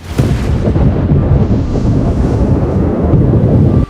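Storm sound effect of rumbling thunder with strong wind, a loud continuous roar and low booming that fills the whole stretch without letup.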